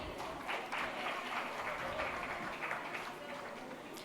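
A large audience at an astrology convention claps together in a steady, dense wash of applause that holds evenly for several seconds, heard from within the hall.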